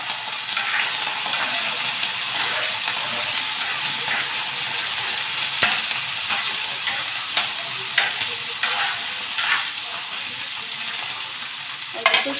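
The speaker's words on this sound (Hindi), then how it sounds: "ये थोड़ा सा सौटे करेंगे इसको। कड़ी पत्ता डालेंगे।" Chicken daleem cooking in a pot with curry leaves, sautéing with a steady bright sizzle and frying crackle, stirring scrapes and occasional louder pops, close and continuous with no talk.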